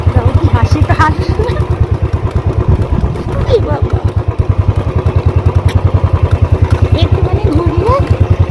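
A motorcycle engine chugs steadily at close range in a fast, even putter throughout, with someone speaking over it now and then.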